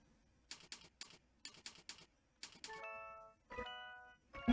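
Bursts of keyboard typing during a Typing.com typing game, quick clusters of keystrokes in short rhythmic groups, followed by bright chiming tones from the game, close and clear with no talking.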